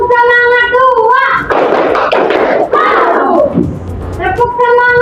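Students in a classroom clap together in a short rhythmic pattern, dense hand claps and thumps with shouting children's voices, framed by an adult voice calling out before and after.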